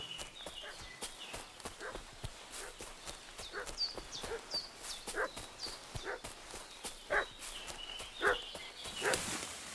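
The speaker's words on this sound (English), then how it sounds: "What's that dog making such a fuss about?" A dog barks repeatedly in Kingdom Come Deliverance II, in short, fairly distant, irregular yaps over a quiet outdoor backdrop with horse hooves clip-clopping alongside.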